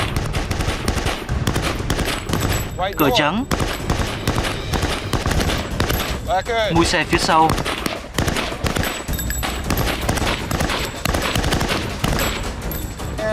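A Browning 7.62 mm machine gun fires sustained bursts at vehicle armour, the loud rapid reports crackling nearly without pause at close range while men call out over the gunfire.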